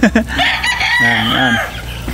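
Roosters crow and chickens cluck at a Philippine breeder's farm, with a couple of sharp clucks at the start followed by a long, loud drawn-out crow ringing close over a steady background.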